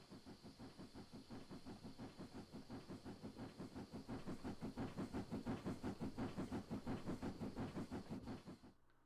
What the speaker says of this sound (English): I hear another steam train.